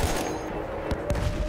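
Rapid gunfire rattles in a World War I battle in the Battlefield 1 campaign, several sharp shots cracking over a dense, continuous roar of combat.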